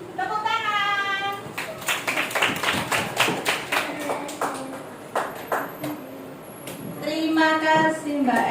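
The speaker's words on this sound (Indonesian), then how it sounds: "Tepuk tangan." A primary school class claps hands after a poem reading, a short burst of rhythmic, fairly close claps between stretches of speaking voices.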